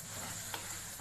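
Green chillies for a potato filling sizzle softly in a pan, a brief quiet hiss with a single small clink of a spoon.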